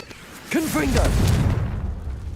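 A Confringo blast spell fired in Hogwarts Legacy, a sudden booming burst that swells after a brief lead-in and rolls on with a rumbling tail, with voices heard over it.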